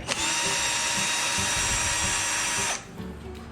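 An electric screwdriver whirs continuously for a few seconds as it drives a screw into a small amplifier build, then cuts off abruptly, leaving light handling noises.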